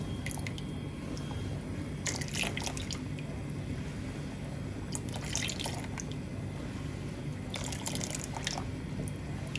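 Custard being stirred into milk in a pot. Three short bursts of wet sloshing and spoon scraping come at intervals, faint and close, with quiet gaps between them and no talking.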